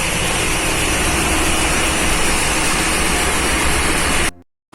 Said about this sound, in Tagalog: So this is the engine room entrance.